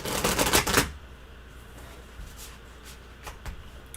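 Heavy, wide tarot cards being shuffled by hand in a quick burst of riffling flutter up close, followed by a few softer, scattered card taps and slides in a quiet room.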